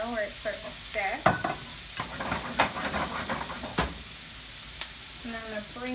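Vegetables frying in oil in a pan for a healthy meal prep, a steady hissing sizzle with sharp scrapes and taps of a utensil and a few tonal squeaks near the start and end, close up.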